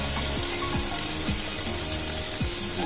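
A slice of bread for curd toast sizzles on a very hot griddle (tawa), a steady, close frying hiss that runs unbroken, with faint low sliding tones underneath.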